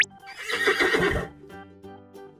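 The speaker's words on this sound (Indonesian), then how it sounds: "Ini kuda." A horse whinnies on a farm: one loud, close, quavering neigh that rises and then trails off into fainter snorts, with a faint clop of hooves.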